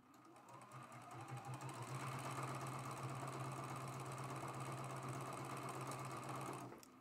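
A sewing machine stitches quilt block seams with a fast, even mechanical chatter that runs steadily for several seconds, then stops abruptly.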